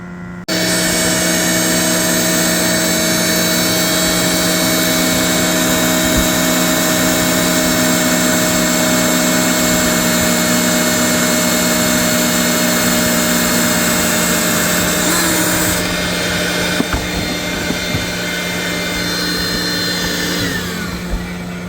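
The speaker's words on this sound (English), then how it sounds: "As we drill the holes, we vacuum up the shavings." A steady, loud whine of a power drill drilling holes in a sailboat's sheet metal refrigerator door, mixed with a droning vacuum hum collecting shavings, with a few clicks near the end.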